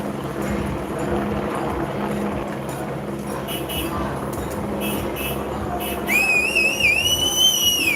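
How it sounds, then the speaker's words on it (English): Outdoor street noise with passing traffic during a protest march, then a person on a porch whistles a few rising, wavering notes at the crowd near the end over the rumble. "Someone's standing on his porch whistling at the crowd"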